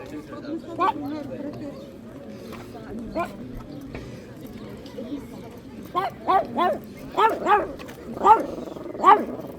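A dog barks repeatedly outdoors during a family day out in Vevey, with a run of sharp, close barks in the second half and people talking throughout.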